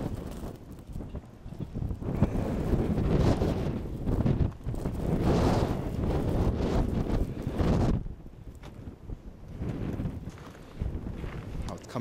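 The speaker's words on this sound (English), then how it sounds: "That's a vicious wind." Vicious blizzard wind roars between Chicago buildings in the South Loop, a loud, continuous buffeting rush with gusts rising and falling and strong wind noise on the microphone throughout.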